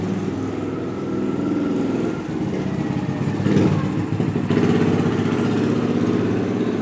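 A sewing machine stitching jersey fabric runs with a continuous close mechanical whir and rapid steady needle rhythm, slightly rising in pace toward the end, with no talking.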